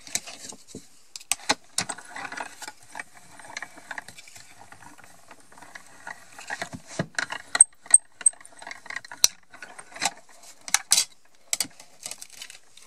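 Cardboard being die-cut for shaker cards gives off scattered close mechanical clicks, ratcheting taps and soft clatter in irregular bursts, fairly quiet overall and without speech.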